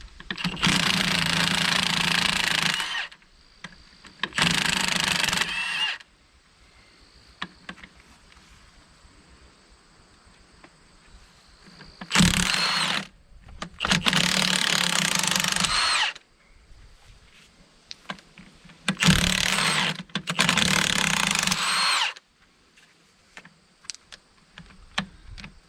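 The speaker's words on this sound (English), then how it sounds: "You can see here we've got a Milwaukee 3/4 half-inch impact wrench" A Milwaukee impact wrench removes wheel nuts on a truck with dual tires. It fires six loud, hammering bursts of about two to three seconds each, separated by quiet pauses.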